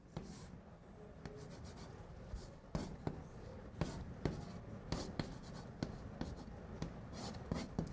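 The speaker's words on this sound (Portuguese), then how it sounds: "Agora eu vou escrever a expressão." Math expression being written on a classroom board during a calculus lesson, a run of sharp, irregular taps and scrapes in quick strokes, fairly quiet, with a faint voice now and then.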